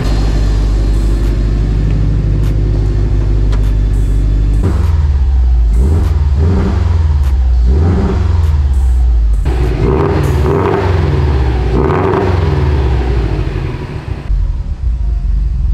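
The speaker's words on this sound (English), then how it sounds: "give it some freaking revs" A Subaru STI with a Grim Speed cat-back exhaust and large injectors on no tune revs repeatedly in a shop, giving a deep, loud idle rumble broken by several sharp throttle blips that rise and fall.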